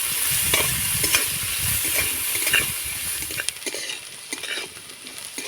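Carrot and cauliflower pieces are stir-fried lightly in a pan, a steady hiss of oil under repeated scraping and tossing strokes of a spatula, fairly close and continuous, with no talking.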